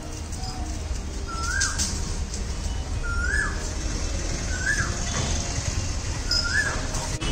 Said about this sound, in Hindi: और आप सुन रहे हैं कोयल का आवाज।